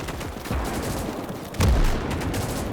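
Artillery and gunfire in the WWII real-time strategy game Gates of Hell, a German campaign battle: sharp repeated gunshot cracks and rumbling blasts, with a heavier booming impact about halfway through, loud and close, no talk.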